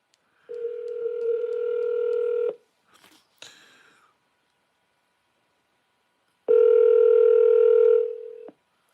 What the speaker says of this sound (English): Calling Sweetie PD's mobile.